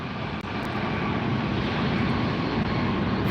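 A Finnair airliner arriving at Los Angeles airport gives off a dense, continuous engine roar, steady and fairly loud throughout the short stretch.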